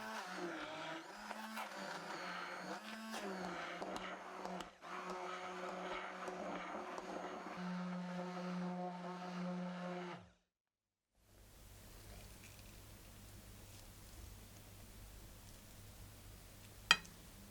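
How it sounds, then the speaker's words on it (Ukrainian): A blender whirs steadily for about ten seconds, puréeing a cheese mixture to a creamy consistency, its pitch wavering as the mixture churns, then cuts off, leaving a quiet hum and a brief click. "Перетріть масу блендером до кремоподібної консистенції."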